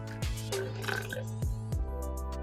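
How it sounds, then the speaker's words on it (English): Water poured from a glass into barley sattu powder gives close, gurgling glugs over a steady low hum. "Add in 1 glass of water."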